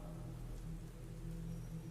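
Steady rain falls as a sound effect behind a horror story about a truck on a night road, a quiet continuous patter with a low rumble and no voices.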